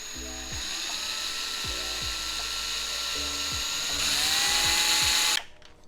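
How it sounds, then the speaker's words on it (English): A power drill whirs steadily and loudly up close, drilling rivet holes in a vinyl-wrapped Ford Mustang's body, its pitch sagging and recovering repeatedly as it bites in, then stopping abruptly. "So I'm drilling holes."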